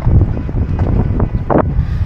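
Steady wind rushes outdoors at the Chiang Kai-shek Memorial in Taiwan, a continuous low roar buffeting the microphone, with a brief faint voice-like sound near the end.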